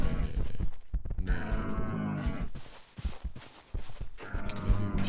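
Several cows moo in the RLCraft Minecraft modpack, drawn-out lowing calls overlapping one after another at close range, with a brief break midway and soft footstep-like thumps among them.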